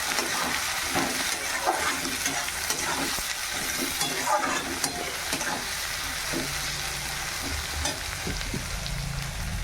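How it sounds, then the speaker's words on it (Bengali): Onions sizzle steadily as they fry in a pan with cardamom, a dense continuous crackle with occasional stirring scrapes, close and fairly loud throughout. "এই পেঁয়াজগুলো এবার ভালো করে ভেজে দেবো।"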